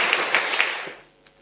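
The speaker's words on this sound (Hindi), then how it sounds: "तालियां हो जाए।" An audience at an Islamic quiz competition applauds in a short, dense burst of clapping that holds for about a second and then quickly dies away.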